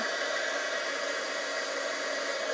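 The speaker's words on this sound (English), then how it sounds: "Let the heat tool heat up just a bit" Embossing heat tool warming up for gold embossing on a Christmas card button, a steady loud blowing whir like a hair dryer, constant and close throughout.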